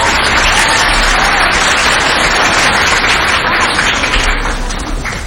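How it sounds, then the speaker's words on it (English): At a 2003 Huntingburg Herbstfest queen pageant, the audience applauds the organizers in a loud, sustained roar of clapping that tapers slightly near the end, with no speech on top. "Give those girls a round of applause."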